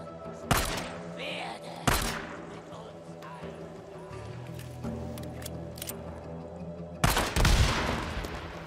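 Gunfire in the video game Days Gone: a few loud, sharp shots spaced seconds apart over a busy game soundscape, with people talking.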